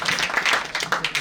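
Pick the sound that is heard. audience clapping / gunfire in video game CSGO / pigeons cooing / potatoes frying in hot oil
audience clapping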